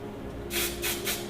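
Three short bursts of hairspray hiss over a finished half-up updo, each a crisp spray puff separated by brief pauses, close and moderately loud against a quiet steady hum.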